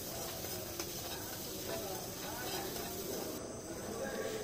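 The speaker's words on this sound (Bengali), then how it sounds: "দিয়ে দিলাম সামান্য পরিমাণে হলুদ, দিয়ে ভালো করে নেড়ে চেড়ে ভেজে নিচ্ছি।" Olives, green chilies and turmeric stir-fry with a faint steady sizzle and light scraping of a spatula in the pan, quiet and close, while someone talks over the cooking.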